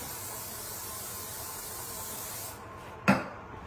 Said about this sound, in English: Spray the sides and the bottom.